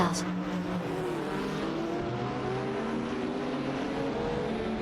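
GT3 race cars, including a Callaway Corvette C7 GT3 and a Lamborghini, battle in a racing video game, engines droning and whining steadily at high revs, loud and continuous.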